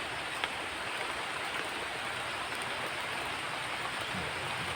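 Heavy rain falls steadily at a campsite, a dense, even hiss filling the whole stretch with no pauses or voices.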